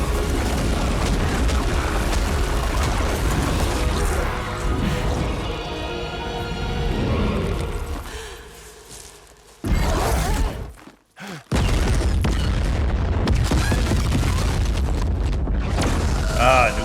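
A new cannon fires in the Death Stranding 2 game with heavy booming blasts and crashing impacts among other game noise, broken by a short sudden drop to near silence, with talk at times.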